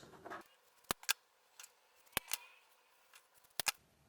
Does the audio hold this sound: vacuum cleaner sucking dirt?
no